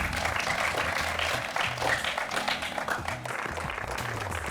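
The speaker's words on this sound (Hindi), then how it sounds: "जोरदार तालियों के साथ इनका स्वागत हो जाए" An outdoor crowd at a quiz event in Bulandshahr, Uttar Pradesh, claps and applauds continuously in dense, steady applause from many hands, fairly loud throughout.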